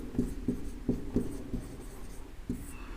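Chalk or marker tapping and scratching on a board during a classroom lesson, a series of short quick strokes in bursts, close and moderately quiet.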